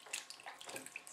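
Water splashes and trickles softly as a rubber stamp is placed in water to soak, a faint, close, uneven burble with no voices.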